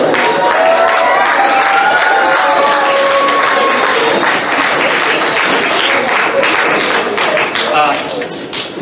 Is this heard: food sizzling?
no